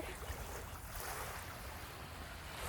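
Sea waves wash onto a hotel beach beside a swimming pool, a steady broad rush of surf mixed with wind noise on the microphone, continuous and fairly loud throughout with no voices.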